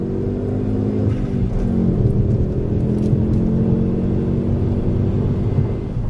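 A Ford Focus ST225 Mk2 makes a standing-start launch on a test circuit, its engine a steady loud rumble with layered revving harmonics that rise and hold throughout, heard close with no talk.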